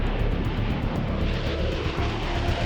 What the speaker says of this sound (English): The big bomber takes off instantly, elevating its landing gear and flaps in accordance with the ascent schedule.